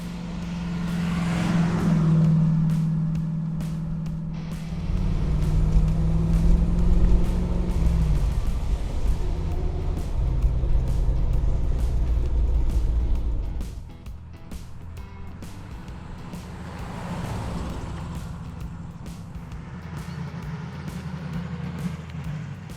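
A resto-mod Chevrolet Camaro Z28 with a Tremec gearbox cruises on the open road, its loud, steady engine drone and road roar rising and easing as it travels, with no talk.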